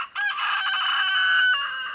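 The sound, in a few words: rooster crowing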